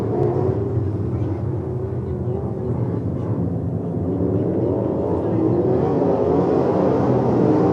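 Race cars at Lincoln Speedway roar steadily as the field heads down into turn three, a continuous loud engine drone that swells slightly near the end, with an announcer talking over it.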